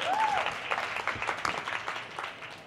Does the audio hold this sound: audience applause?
yes